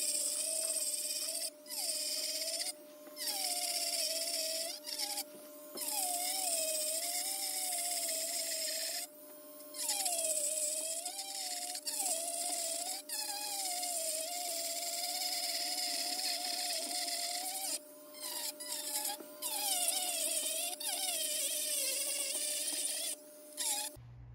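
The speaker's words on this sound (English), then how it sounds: "And here you can go with the Dremel back and forth." A Dremel rotary tool whines as it grinds back and forth along a crack in a fiberglass hot tub, its pitch rising and dipping with load, broken by short pauses, close and steady.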